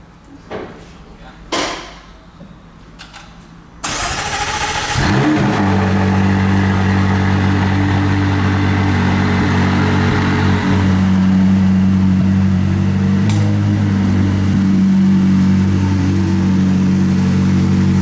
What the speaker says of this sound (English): It's time to take the car outside.